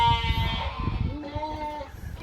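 Sheep bleating in a farm pen in the Bahamas, a few drawn-out wavering calls close by, one after another, over a low background rumble.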